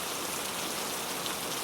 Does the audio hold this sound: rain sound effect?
yes